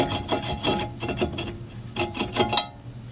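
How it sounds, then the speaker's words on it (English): Scraping, rubbing metal clatter as a brake rotor is worked off a car's wheel hub during ball joint replacement, with irregular close bursts and a sharper clank near the end. "Remove the brake rotor."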